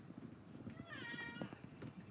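A cat gives a single drawn-out meow, faint against a steady low background hum, with no talking over it.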